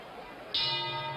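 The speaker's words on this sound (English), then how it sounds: "And there's the bell, and the prediction has failed." A boxing ring bell sounds once in a bright, sustained clang, ending a round of the Joe Frazier vs Muhammad Ali fight over loud arena crowd noise.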